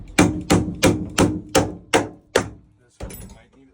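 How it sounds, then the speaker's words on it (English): Plastic bolts on a truck camper struck with a tool: seven sharp, evenly spaced knocks, then a short pause and one more hit, loud and close. "Just hitting the plastic bolts a little bit."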